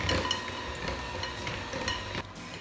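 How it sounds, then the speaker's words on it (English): A spoon or mixer stirs flour and baking powder into cookie batter in a bowl, producing steady scraping and soft knocking against the bowl, close and fairly loud, alone without talk. "I'm going to very carefully, so I don't get covered in flour, mix this in"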